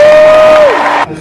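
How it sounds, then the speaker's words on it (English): A graduation ceremony crowd clapping and cheering, a loud continuous mass of applause with a sustained whoop or shout riding on top that fades, then cuts off abruptly. "We're clapping, we're standing."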